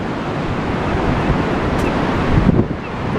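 Wild sea waves and gusting wind along the Blackpool promenade: continuous roaring surf with heavy wind buffeting the microphone, loud and close, swelling slightly near the end.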